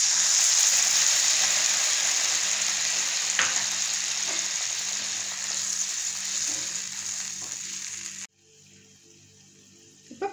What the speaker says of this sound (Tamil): இப்போ புளி தண்ணி நல்லா கொதிச்சு வருது.